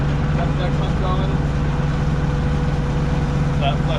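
A pump runs aboard a halibut longline fishing boat, flushing the fish hold with a steady droning hum and engine rumble that stay constant, with faint voices and a few light knocks on top.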